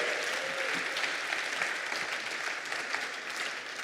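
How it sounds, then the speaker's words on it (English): Audience applause for a panel at an L2 Days event during Devconnect Istanbul, a dense, sustained clapping from a sizable crowd in a hall, steady throughout without speech. "big round of applause for them"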